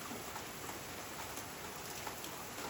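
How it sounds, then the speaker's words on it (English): Heavy record-setting rain falls steadily around an off-grid cabin, a dense, even hiss of drops pattering on surfaces with no voices. "we have just gotten like record-setting rainfall"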